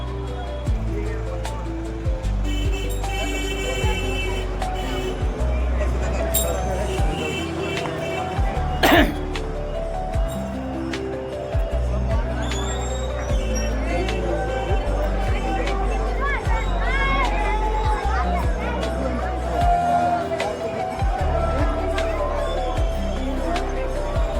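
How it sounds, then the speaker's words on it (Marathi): A huge crowd of pilgrims packs the Pandharpur temple, a dense, steady roar of babble and movement that runs throughout at close range, with voices and shuffling blending into one continuous wash. "पंढरपुरात प्रचंड गर्दी आहे."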